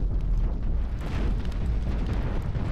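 Ship guns pounding an enemy control room during a space battle in the Cosmoteer sandbox game: a steady, dense barrage of booming low impacts and bursts, loud and continuous with no talk.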